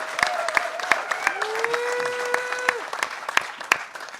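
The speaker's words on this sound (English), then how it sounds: "give him a huge round of applause for the microcontroller workshop" An audience at a hacker conference gives a round of applause for a microcontroller workshop, a steady crackle of clapping with a few sharp claps standing out and a tone sounding faintly behind it.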